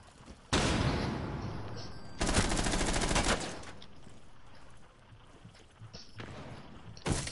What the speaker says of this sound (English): He's laying down suppressive fire.